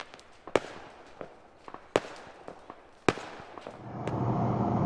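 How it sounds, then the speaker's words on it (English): Fireworks going off across a town at night, a run of sharp distant bangs and crackles spaced irregularly, fading into a rising rumble of background noise toward the end. "there are many other fireworks being let off all over town"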